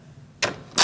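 Two quick mechanical bursts, likely from a power tool or ratchet, are heard while bolts are tightened on the front bumper of a 2016-2019 Chevrolet Cruz during AC condenser replacement; each burst is short, close and loud, with a brief gap between them.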